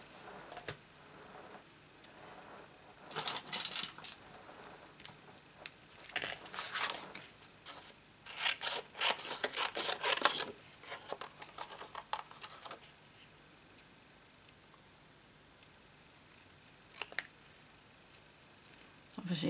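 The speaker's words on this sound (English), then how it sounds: "Let's see how nice and easy this is to cut out." Scissors snip through card stock for a handmade greeting card, a run of short crisp cuts clustered in bursts between pauses, with a person talking quietly in places.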